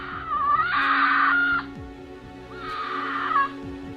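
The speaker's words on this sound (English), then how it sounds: "usually a quiet cougar, at this time it begins to make such sounds." A cougar gives two long, harsh, wavering yowls during mating season, loud and close, separated by a short pause.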